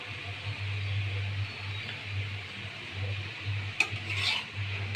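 Salted chopped red tomatoes being stirred in a pan, a soft continuous scraping and faint sizzle over a steady low cooking hum, with a couple of sharper utensil knocks near the end.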